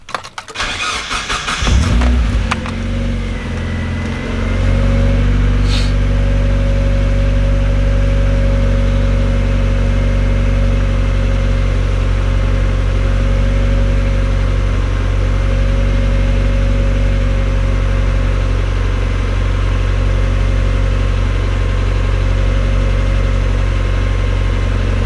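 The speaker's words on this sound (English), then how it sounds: "Usually when it gets a cold start, it just idles high for a little bit till it warms up, and then it drops back down." A Mazda Miata NB cranks and fires on a cold start, then settles into a steady, loud, high idle that holds unchanged close to the microphone.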